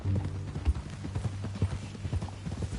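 Horse hooves clip-clop steadily at a walking pace in the western open-world game Red Dead Redemption 2, with a low rhythmic thud of each step and faint ambient sound beneath.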